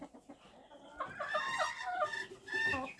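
Chickens and ducks in a farmyard, with hens clucking and calling in short, bright bursts close by, a few quieter calls at first and then busier clucking over a low background.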